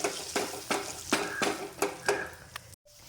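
A spoon stirs chili powder into a shark curry in a pan, making regular scraping strokes about every third of a second over a soft sizzle, close and steady, then stopping abruptly near the end.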